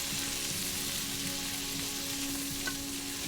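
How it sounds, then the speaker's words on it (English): Steady, loud sizzling and crackling of Cajun sausage, peppers and rice frying in a skillet, a continuous close hiss with a low hum underneath and no voices. "How good does that sizzle sound though?"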